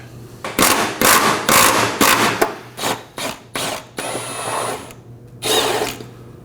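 Bursts of a ratcheting power tool loosen the 15mm nuts on the drive shaft center carrier bearing of a 2018-2024 Chevrolet Equinox 1.5L, loud and close, with short gaps between pulses and faint metallic clinks.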